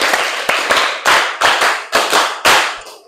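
Students in an economics class clap in unison for a counting exercise, giving a series of sharp, close group claps in uneven bursts with short silences between them.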